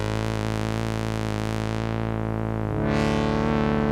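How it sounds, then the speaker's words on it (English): A sustained note runs through a Generation Loss MKII lo-fi pedal as its wow and flutter tape effect kicks in, the pitch starting to waver and warble with a fast wobble near the end, loud and continuous. "Introduce WoW and Flutter again."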